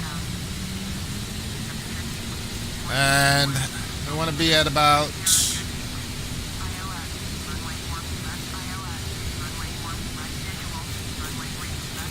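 Simulated ERJ-145 jet engines in FSX hum as a steady, even drone after being throttled back, with someone talking briefly over them.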